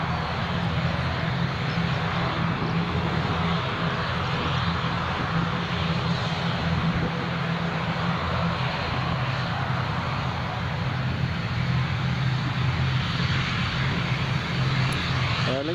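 Aer Lingus aircraft engine at Newcastle International Airport, a loud continuous roar with a steady low hum, heard from a distance and holding constant throughout without pause.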